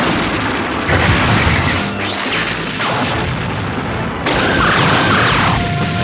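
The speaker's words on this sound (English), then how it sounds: "Main guns, target enemy battleships" Main guns of a space battleship fire a volley, a dense roar of repeated booms and crashing blasts with sweeping electronic whines layered on top, loud and continuous throughout.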